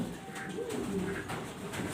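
Black pigeons at an exhibition coo in low, soft, rolling notes, close and continuous, with no talk over them.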